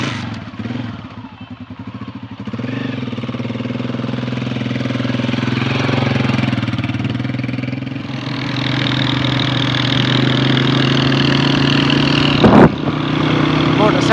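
A motorcycle engine runs with a steady low rumble, then revs a little higher midway, with brief voices and a sharp knock near the end.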